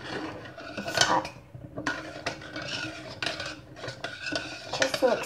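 Food being mixed in a hot pot, the utensil scraping and clinking against the sides in close, busy strokes with brief pauses between bursts.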